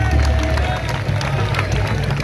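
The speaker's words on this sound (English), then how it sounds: "Let's give them a round of applause, please." Applause and cheering from a crowd at a Shri Ram Murti and Shobha Yatra event at the Hindu Heritage Centre in Mississauga, a dense, steady wash of clapping and voices that fills the whole moment.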